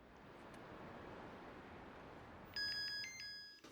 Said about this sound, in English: here we have the cell phone coming in, which specifically we picked to be as annoying as possible and as intrusive as possible